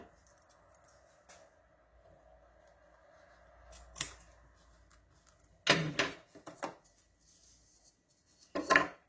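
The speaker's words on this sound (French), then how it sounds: "je vais venir couper avec mon ciseau" Scissors cut while a small craft box is being made: a single crisp snip, then a cluster of quick snipping cuts and a final crisp snap, close by, with quiet pauses between.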